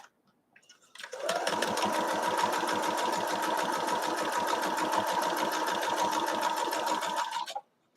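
A sewing machine stitches a fabric globe ornament in one continuous run of about six seconds, a fast rhythmic whirring and ticking close by, starting and stopping abruptly with no talking.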